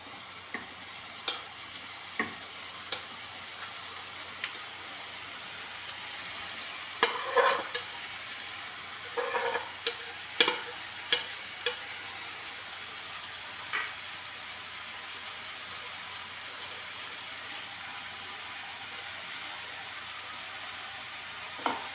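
Chopped onion fries in a pan, a faint steady hiss of oil with scattered light taps and clicks of a spoon stirring at irregular intervals, no speech.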